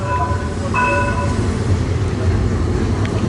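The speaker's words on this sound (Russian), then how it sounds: "а рядом трамвай ездит" A tram runs past a street cafe in Antalya, Turkey, giving a steady, close rumble that fills the whole stretch, with a few brief high metallic whines rising above it early on.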